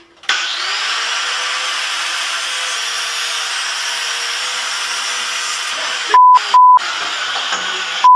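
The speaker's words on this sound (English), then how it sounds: "I like to use my angle grinder to sharpen the spoon." An angle grinder sharpens a metal spoon: a loud, steady high-pitched whine and grinding hiss that starts abruptly and runs continuously, with short beeps cutting in near the end.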